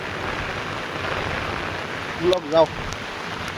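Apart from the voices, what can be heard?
heavy rain falling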